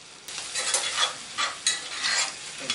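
Food sizzles loudly in a hot pan on high heat, with bursts of scraping and stirring rising and falling every half second or so, close and with no voices.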